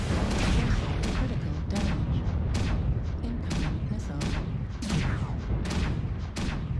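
Heavy mech weapons in the game MechWarrior Online fire in a rapid stream of booming shots and impacts, loud and dense over a constant rumbling engine bed, roughly a dozen distinct bursts.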